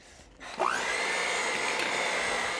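An electric mixer starts up on low speed as flour is mixed into raw cookie dough, rising from quiet into a steady, loud motor whine that holds to the end.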